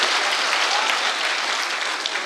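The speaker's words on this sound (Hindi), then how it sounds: "आप लोग अगर तालियां बजा रहे हैं तो मिलके बजाते हैं" Steady, dense applause from an audience at a poetry recital, filling the whole stretch at an even level with no talk on top.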